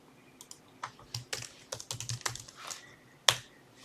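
Irregular clatter of typing on a computer keyboard during a Civil 3D drafting lesson, a quick run of close keystrokes with one sharper, louder key hit near the end, no talk.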